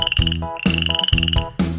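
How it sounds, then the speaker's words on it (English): A frog croaks loudly and close up in three rhythmic bursts, each a rasping, pulsing call with short pauses between them, with no talk. "frog."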